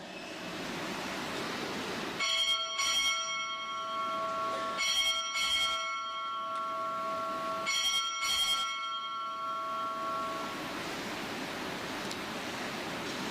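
A ship's bell is struck at a Navy Recruit Training Command change-of-command ceremony. It rings six times in three evenly spaced pairs, each clang leaving a long, bright tone over a steady background hiss.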